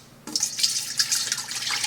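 Dole 100% pineapple juice with no added sugar, 46 ounces of it, pours into a cooking pot for brine, a sudden splashing stream that starts abruptly and keeps running steadily, close and moderately loud, with no talk.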